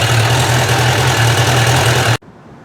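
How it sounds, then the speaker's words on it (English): A barn-find Suzuki Katana motorcycle engine idling warm, a steady low throbbing rumble that is loud and close, cutting off abruptly near the end. "it's idling about where it should"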